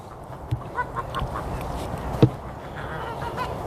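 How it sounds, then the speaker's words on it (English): Laying hens calling nearby on a farm, a few short honking clucks over a steady outdoor background, no speech. "We'll just finish with the chickens."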